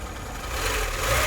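A used car's engine idles at a car market in Barda, a steady low rumble with a faint vibrating hum, close and unbroken, with no talk.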